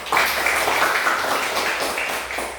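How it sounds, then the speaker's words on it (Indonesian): Students in a classroom give a round of applause, a dense, fairly loud patter of many hands clapping together, holding steady and then tapering slightly toward the end. "Luar biasa, tepuk tangan dulu"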